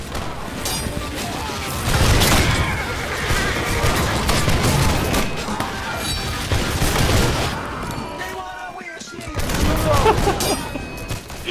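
Dense, continuous volleys of musket gunfire crackle throughout in the video game Holdfast, with a short lull near the end before the shooting resumes, loud and chaotic.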